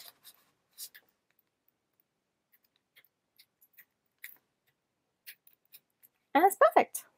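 Scattered faint ticks and light handling noises, then a short cluster of louder crackling peels near the end as cut material is pulled off a Cricut Maker 3 cutting mat, close and brief.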